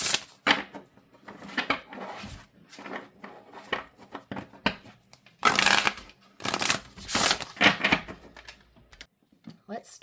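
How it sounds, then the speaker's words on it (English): Odyssey Oracle cards are shuffled by hand in quick papery riffles and bursts, close and fairly loud, with pauses between runs. "let's shuffle"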